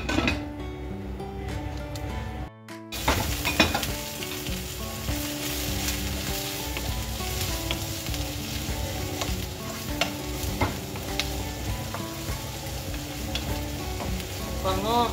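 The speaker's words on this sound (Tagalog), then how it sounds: "Isutin na natin yung onion hanggang maluto." Chopped onion sautéing in a pan with oil, a steady close sizzle and crackle with stirring scrapes and a brief clatter near the start, going on alone without talk.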